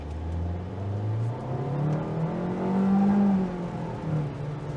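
Kia K5 GT Line AWD sedan pulling away from a standstill on a wet surface, its engine note climbing steadily through the revs, moderately loud inside the cabin with no voices.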